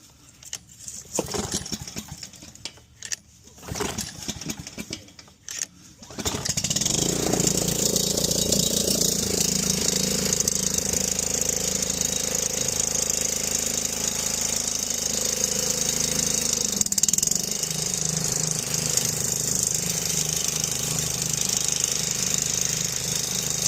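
A DR 26 Premier brush mower is choked and pull-started, with several rough pulls and sputters before the small engine catches and runs steadily, loud and close, with a constant rattling drone.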